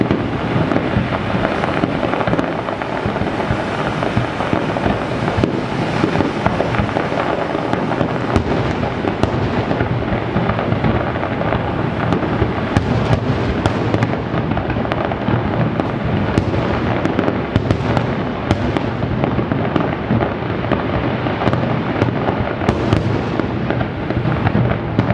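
Canada Day fireworks finale, a dense, continuous barrage of loud booms and crackles with no pauses, rumbling steadily for about 25 seconds.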